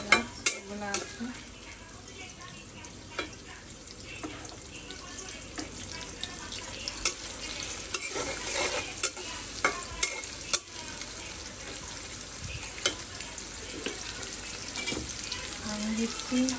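Onion, chili, cinnamon and cardamom fry in a pan at midday, giving a steady close sizzle broken by frequent sharp scrapes and clinks as the spices are stirred, with no talking.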